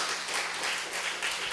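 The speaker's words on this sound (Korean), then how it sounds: "우리 남편들 위해 한 박수 한번 할까요?" Church congregation at a Sunday service applauding together, a steady wash of many hands clapping at moderate distance, sustained without a break and with no voices over it.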